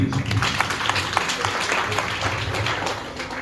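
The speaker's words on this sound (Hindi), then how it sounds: "एक ताली दोस्तों इनके लिए बजा दीजिए।" An audience at a seminar claps together, a dense patter of hand claps that holds for a few seconds, then thins and fades toward the end.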